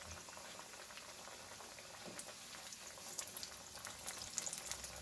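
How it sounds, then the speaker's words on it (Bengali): Steady sizzling from potol (pointed gourd) chops frying in oil in a wok, a soft continuous hiss dotted with small crackles and pops that grow a little busier toward the end. "আমি এবার এগুলোকে ভেজে নেব।"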